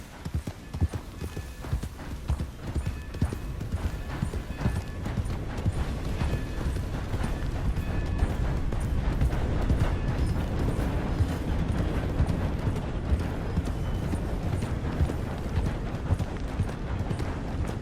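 Rapid, steady clip-clop of horse hooves galloping, continuous and fairly loud, with a busy game-like soundscape beneath, from Red Dead Redemption 2.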